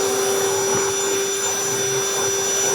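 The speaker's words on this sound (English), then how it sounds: "see the vacuum?" A Ryobi 18V project vacuum runs with a steady, loud motor whine and airflow hiss, constant throughout with no speech.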